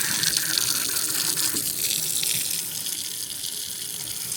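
Water runs steadily from a sink tap with hot and cold supply inside an old church, a close, continuous splashing gush that eases slightly toward the end.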